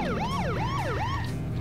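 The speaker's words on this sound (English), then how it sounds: "the horn in this is actually a siren" A police car siren sounds as the horn in The Simpsons Hit & Run video game, sweeping up and down in three quick rising-falling wails over a low engine hum before cutting off.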